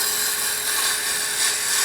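Wood turning on a lathe, a gouge held against the tool rest and cutting a small wooden Christmas tree, giving a steady, continuous close-up whirring scrape with no break and no voices.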